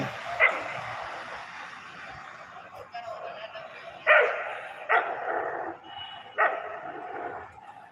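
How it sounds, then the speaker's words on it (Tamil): Dogs barking and scuffling near a bus station, a few sharp yelping barks and snarls in separate bursts over a continuous noisy background. "நாய் சண்டை போட்டுட்டு"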